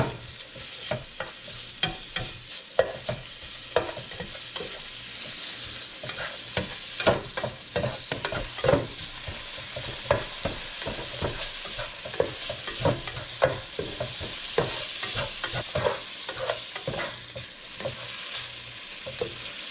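Bacon frying in a pan with no butter or oil, crackling and popping steadily with dense spits and sizzles close by, occasional utensil stirs and scrapes, no voices.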